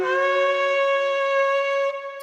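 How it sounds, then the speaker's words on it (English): A shofar, the ram's horn blown on Rosh Hashanah, sounds one loud, steady, brassy sustained blast lasting about two seconds before cutting off abruptly, with no voices. "That's the sound of the ram's horn that we do blow on Rosh Hashanah."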